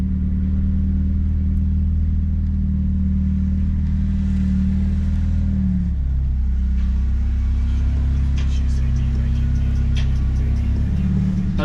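A 2017 Lexus IS200t F-Sport with an 8-speed transmission that has just been replaced runs under load, with a steady, loud low engine rumble that shifts in pitch partway through as the car moves.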